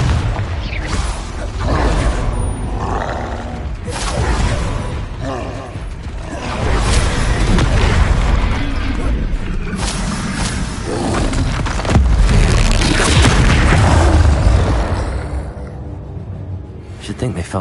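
Repeated Confringo fire-spell explosions in Hogwarts Legacy, loud rumbling booms and creaking, clattering impacts that swell and fade in waves over a continuous game soundscape, with voices speaking among them.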